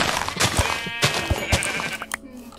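Sheep bleat in the Minecraft video game, several short, bright, wavering calls spaced unevenly over the clip, fairly close and clear with no talking.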